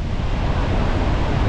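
Ocean waves wash steadily onto Versova Beach in Mumbai, a loud, continuous roar of surf with wind buffeting the microphone throughout and no voices.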